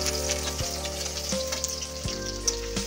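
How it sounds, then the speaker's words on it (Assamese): Onions frying in hot oil alongside duck meat in a pan for an Assamese duck curry, a close, steady sizzle with crackles and a few scraping stirs. "এতিয়া তেলত পিঁয়াজ দিছোঁ।"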